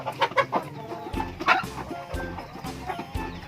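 Laying hens in an unrenovated backyard henhouse, about forty birds, cluck in repeated short bursts close by, several calls overlapping against a low steady background hum.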